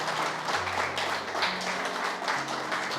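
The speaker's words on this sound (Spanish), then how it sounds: "dale un aplauso al Señor y a su palabra" Church congregation applauding during a sermon, a dense mass of clapping with a faint sustained musical tone underneath, steady and moderately loud for a few seconds.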